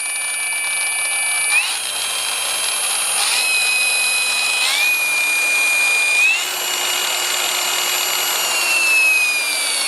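A Baikemon cordless burnisher runs at speed 1 with a loud, steady high-pitched motor whine that shifts pitch in small steps a few times, continuous and close, with no talking.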